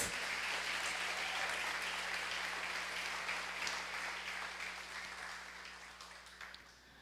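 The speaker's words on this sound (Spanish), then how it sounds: "Dele un aplauso fuerte a Dios." Loud applause from a large crowd, sustained and dense, slowly fading toward the end over a faint steady hum.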